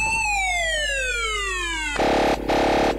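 Police siren from a UAZ Patriot patrol-car mod in the Spintires off-road game: a loud descending wail for two seconds, then a sharp switch to a steady pulsing electronic tone that cuts out briefly and resumes.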